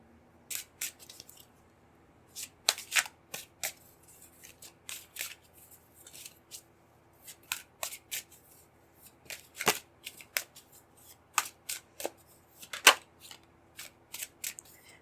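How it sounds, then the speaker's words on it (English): Tarot cards are shuffled by hand in quick, crisp bursts of riffling and sliding, close and fairly quiet, with irregular pauses between flurries. "So I'm going to pull out more cards with this because of limitation"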